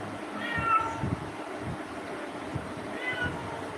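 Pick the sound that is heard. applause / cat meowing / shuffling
cat meowing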